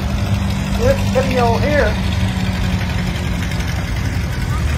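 Antique tractor engines idle at a tractor show at a Michigan flywheelers museum, a steady low throbbing rumble that runs throughout. Someone talks briefly over the engines.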